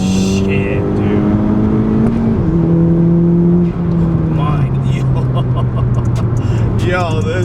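A turbocharged 10th-gen Honda Civic Si with an upgraded turbo pulls hard in third gear around 4,000 rpm. Heard from inside the cabin, a loud, continuous engine drone shifts in pitch throughout, and a voice joins briefly near the end.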